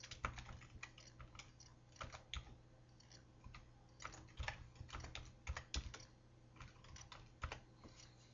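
A computer keyboard is typed on steadily and close by while a post title is entered, giving quiet, uneven clusters of key clicks with short pauses, heard alone.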